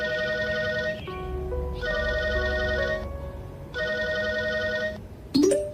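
A phone ringing tone plays as three sustained electronic bursts separated by short gaps. A brief clatter follows at the very end. The ringing is clear and close, with no talking.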